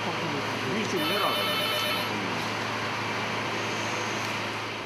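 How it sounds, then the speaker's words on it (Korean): A telephone rings in a construction site office, with faint repeating electronic trills sounding beneath a Korean voice and a steady background hum. "그때 전화 한 통이 걸려왔다."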